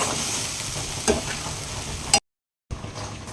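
Vegetarian vegetable khichuri stirred in a pot after fried spice paste is added: a close, continuous sizzle with scraping stir knocks near the middle, a short dropout to silence, then the frying resumes.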